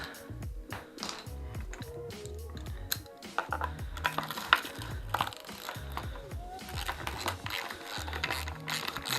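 A hand ratchet clicks in short, uneven bursts as screws are backed out of the mud guard on a Kawasaki KX 60 motocross bike, close and fairly quiet, with brief handling noises between strokes.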